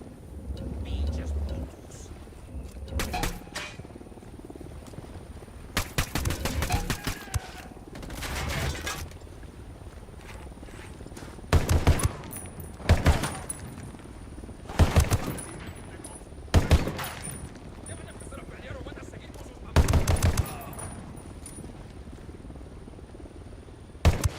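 Gunfire in the tactical shooter Ghost Recon Wildlands comes in repeated sharp bursts and single shots, spaced every few seconds over a low background rumble of vehicles and ambience.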